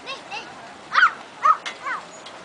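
A small dog gives a few short, high yips and barks, close by, with faint voices in the background, at a small playground square in Fortaleza.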